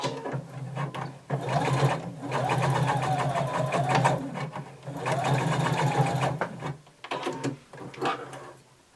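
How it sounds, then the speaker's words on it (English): A sewing machine stitches the seam of a flared skirt, running in two long steady whirring passes, then a short stop-start burst for backstitching, close and clear. "you're going to sew all the way to the end and backstitch."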